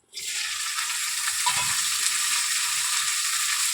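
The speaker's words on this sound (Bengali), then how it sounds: "ঢ্যাঁড়স কোচানোগুলো ঢেলে দেবো কড়াইয়ের মধ্যে" Okra hitting hot white oil in a kadai sets off a sudden loud, steady sizzle that fills the whole stretch, close and continuous, with a brief clink of utensils early on and no talking.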